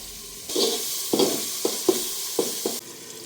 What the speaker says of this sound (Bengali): রসুন দিয়ে দিয়েছি এখন দিয়ে দিলাম আদা